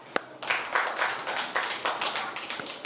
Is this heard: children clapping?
yes